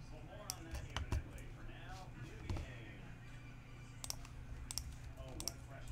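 Computer mouse clicks while working on a web development page, a scattering of small sharp taps at irregular intervals, close and quiet, mixed with a few keyboard-like ticks under a voice talking.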